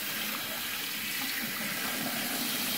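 Hot water pours steadily into a jar with a constant, quiet, hissing liquid rush that runs alone throughout.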